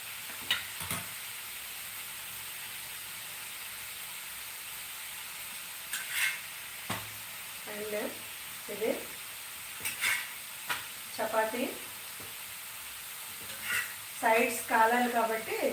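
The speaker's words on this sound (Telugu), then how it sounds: "ఈ మసాలాతో బాగా వేయించాలన్నమాట" Cauliflower curry fries in a pan with masala and tomato, a soft sizzle running under a voice with occasional stirring scrapes.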